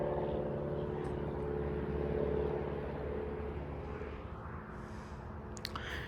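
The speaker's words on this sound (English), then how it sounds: "Oh, there it goes. There goes the wind." Wind gusts sweep through an outdoor spot in Frisco, Texas, a steady broadband roar rising and falling slightly over several seconds, with a faint brief click near the end and no talk.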